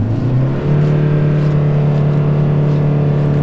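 A small truck stuck in standing water revs hard, its engine a loud, close, steady roar that climbs in pitch early on and then holds a strained drone.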